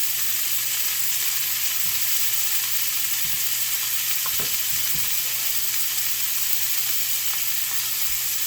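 Beef chuck steak searing in butter with vegetables, a loud continuous sizzle with a few soft knocks and clinks of the pan, no voices.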